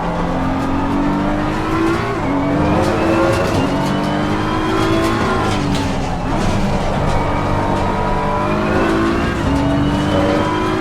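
A race car engine in a sim racing video game roars loudly and steadily, climbing through the revs, dropping sharply at each upshift and climbing again across the gears, with faint tyre noise underneath.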